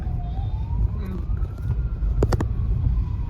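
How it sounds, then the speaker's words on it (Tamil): An ambulance siren wails through stopped evening traffic, a rising tone sweeping up over a low rumble of idling engines, moderately distant, with a few brief louder clatters near the end. "இதுல ஆம்புலன்ஸ் வேற."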